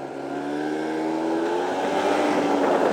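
A Piaggio Typhoon 125 scooter with low mileage is ridden, its small engine giving a steady, close drone that builds slightly as it pulls away, with no talk over it.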